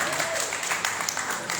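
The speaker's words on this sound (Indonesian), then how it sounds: "tepuk tangan" Audience at a plenary youth-organisation meeting in Jakarta clapping, a dense, even wash of hands sustained throughout, with some crowd murmur mixed in beneath it.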